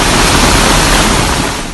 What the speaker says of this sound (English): Parts of the capital experienced torrential downpours yesterday.